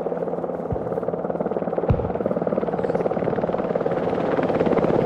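Helicopter rotor and turbine drone in the Arma Reforger video game, a steady loud buzzing whir throughout with a couple of sharp thumps and faint voices underneath.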